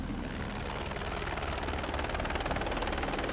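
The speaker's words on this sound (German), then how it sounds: "der Heli ist gelandet." A helicopter's rotors thump steadily in a dense, roaring wash of engine noise as it lands, close by and constant throughout.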